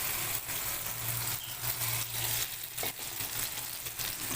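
Beaten egg mixture for an omelette hits hot oil in a pan and sizzles loudly and continuously at close range, with a low steady hum beneath and a few small scraping sounds as it is spread.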